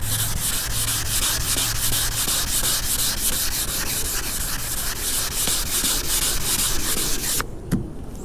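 Car primer is wet block sanded by hand in steady, rhythmic back-and-forth rasping strokes, close and continuous, before stopping abruptly near the end with a brief knock.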